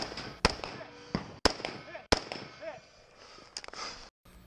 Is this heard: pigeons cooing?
no